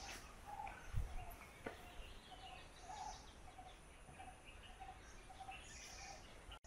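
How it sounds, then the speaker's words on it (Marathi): Birds call around a village temple in the Konkan countryside near Devgad: faint, repeated short chirps recur every half second or so over quiet outdoor background noise. "सुंदर पक्ष्यांचे आवाज"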